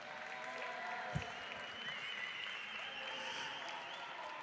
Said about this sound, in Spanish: ¡Un fuerte aplauso para el chaval del termo!